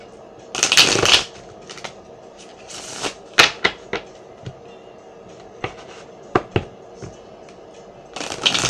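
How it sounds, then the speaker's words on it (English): Tarot cards are shuffled by hand at close range, a couple of longer riffling bursts followed by scattered soft slaps and taps as the deck is handled. "let us pull some cards from the tarot so I can get a little bit more information"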